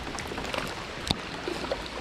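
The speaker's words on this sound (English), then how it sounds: "this rain is actually getting really bad" Rain falls steadily during a storm on a lake around a fishing kayak, a continuous close hiss of drops with a few sharper individual splashes and taps standing out.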